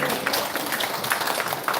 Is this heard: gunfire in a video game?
no